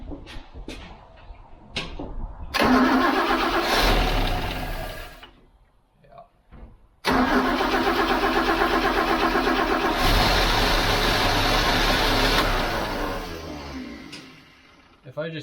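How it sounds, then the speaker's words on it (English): A car engine with messed-up ignition wiring cranks and catches, running loudly in two long bursts while the starter is held, with short quiet gaps and brief talk between. "If I just keep the starter turned on, it stays running."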